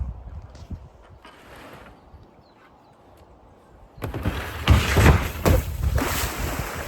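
A narrowboat engine opens to full throttle on open water: faint rumbling at first, then a sudden loud, sustained roar mixed with heavy wind buffeting in the second half.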